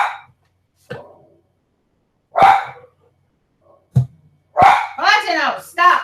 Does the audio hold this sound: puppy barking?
yes